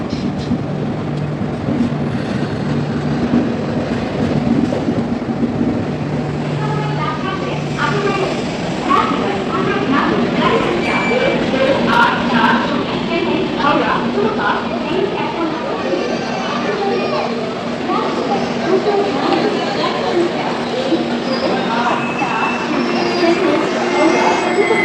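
Inside an AC 2 tier coach of the Howrah Mail, a steady dense rumble of the running train fills the space continuously, with clattering and faint squeals over it and people talking nearby.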